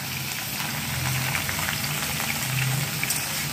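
Ginger paste and chunks of ridge gourd frying in oil for a Bengali-style fish curry, a continuous close crackling sizzle with little variation throughout.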